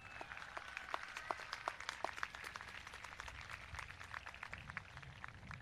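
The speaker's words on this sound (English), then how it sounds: "Please give them a big round of applause" An audience at a high school graduation ceremony gives steady, faint applause, dense scattered claps sustained throughout as if heard from some distance.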